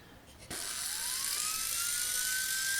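An electric checkering tool whines into motion like a dentist's drill, giving a close, steady high-pitched buzz that climbs in pitch as it spins up and then holds.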